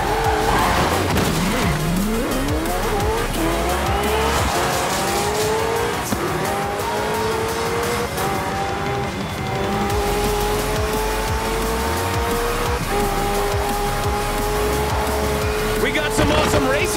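Race cars and racing trucks in the Forza Horizon 4 racing game roaring past with engines revving, gears shifting and sustained tire squeal and skidding, loud and continuous, while a voice talks over the action.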